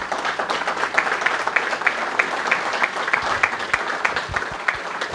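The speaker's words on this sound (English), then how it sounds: "Let's give a round of applause to Vipin." An audience at the ONUG Spring 2016 networking conference applauds the hackathon winner, a distinguished Cisco engineer: continuous, even clapping from a moderate indoor crowd, fairly loud and steady throughout, with no talk over it.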